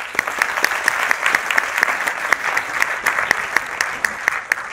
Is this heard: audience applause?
yes